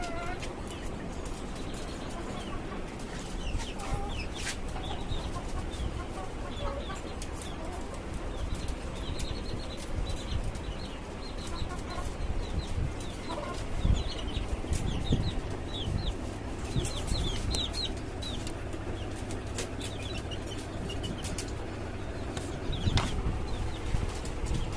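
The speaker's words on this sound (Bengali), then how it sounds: "এই হচ্ছে আমার দেশি মুরগির কালেকশন" Desi chickens kept in cages on a farm cluck and chatter continuously, with occasional wing flaps, in a busy, steady chorus throughout.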